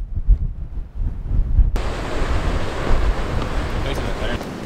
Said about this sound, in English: And it's so windy outside